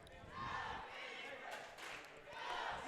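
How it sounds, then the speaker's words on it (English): Crowd cheering and shouting in a gym during a girls high school basketball game, a steady roar that swells near the start and again at the end, with voices mixed in. "We got some crowd going on here."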